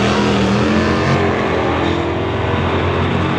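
A 2020 Shelby GT500 at a drag strip fills the air with a loud, continuous engine roar, a dense, steady throaty drone held throughout without pause.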